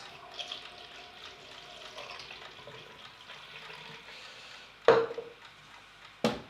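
Water runs at a low, steady level while film is rinsed at home during E6 slide developing. Two sharper splashes or clunks stand out near the end.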